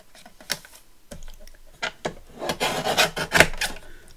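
Kraft paper for a Tim Holtz botanical ring binder is cut to size, about three inches off. Irregular rasping snips and rustles build into a louder run of crisp cutting strokes, close by and with no talk.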